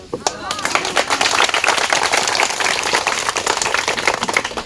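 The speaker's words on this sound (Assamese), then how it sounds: "মামা আমি তোমাক ভাল পাওঁ, হাত চাপৰি ৰাখিলে হৈ গ'ল" A crowd at a sports equipment distribution event in Borpathar, Assam, claps loudly and densely for several seconds, a close, crackling patter of many hands with voices mixed in.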